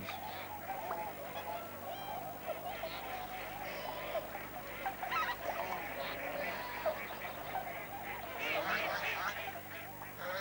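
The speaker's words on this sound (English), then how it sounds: "The swan geese dig too, using their feet as well as their bills." A flock of swan geese honking and calling continuously, with overlapping nasal cries and some duck-like quacks amid outdoor ambience.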